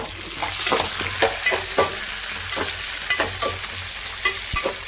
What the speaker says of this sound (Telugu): పచ్చిమిరగాయలు వేస్తాను తర్వాత ఉల్లిపాయలు చక్కగా వీటిని దూరంగా వేగనిద్దామండి